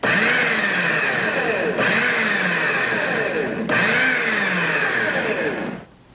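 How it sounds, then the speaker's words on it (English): A food processor pulses onion into coarse chunks for salsa: a loud, close motor whir in three bursts of about two seconds each, with a brief dip between them, then it cuts off. "And I'll just pulse it a few times just to get that bulk down and the onion coarsely chopped by the food processor."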